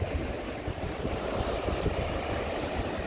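Rough sea surf along the Blackpool promenade at high tide, a continuous churning wash of waves with heavy wind buffeting the microphone, steady and fairly loud with no voices.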